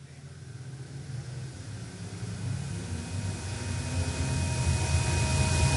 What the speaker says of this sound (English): As around goes car number 8 of Logan Blakely, bringing out the yellow flag